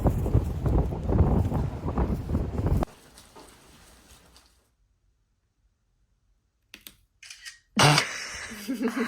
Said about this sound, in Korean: 바람 소리가 들어.